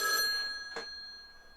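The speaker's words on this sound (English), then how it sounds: "I have a call on this phone that is black." A telephone ringing, a single short electronic ring tone that rises sharply and quickly fades, with a brief second burst following, close and alone.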